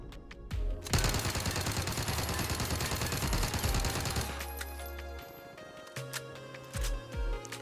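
Milano SMG fire in Call of Duty Warzone: a rapid, sustained automatic burst roars for several seconds, then trails into scattered echoing shots and short follow-up bursts, loud and close with no talking.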